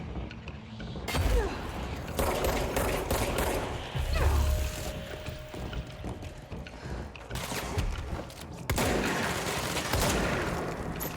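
Gunfire in the video game Control rattles in repeated bursts of rapid shots and impacts, loud and close, with short pauses between volleys.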